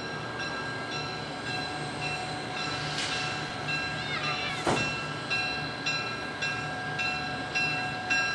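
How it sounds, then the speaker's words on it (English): A heritage excursion train's whistle sounds briefly over the steady rumble and clatter of the passing train, with a sharp, close blast near the middle. "Whistle."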